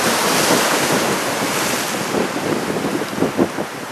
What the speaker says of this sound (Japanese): 今日は結構いい波が来てますね